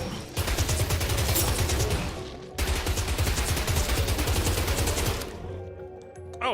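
A Tommy gun firing in a game, rapid sustained automatic bursts roaring in two long strings separated by a brief pause, then cutting off as the ammo runs out.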